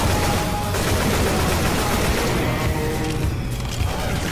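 Dense, rapid gunfire from Left 4 Dead 2 hammers on without pause, a loud continuous fusillade of overlapping shots and booms with no break.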